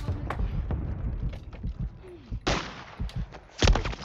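Gunfire in the Warzone video game, several sharp cracks spaced irregularly, with one heavier close report near the end, mixed with footstep-like thuds and game noise.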